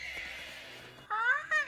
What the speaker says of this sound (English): Nice! It's the horse!